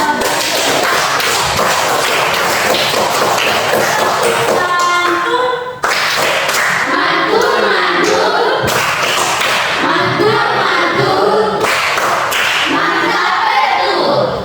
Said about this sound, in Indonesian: Semua tepuk tangan dong.